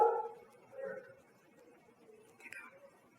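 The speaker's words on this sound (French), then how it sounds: "C'est merveilleux d'avoir deux beaux gros toutous à la maison." Two big dogs at home letting out a few faint, muffled barks and yelps at a distance, spaced across a quiet room.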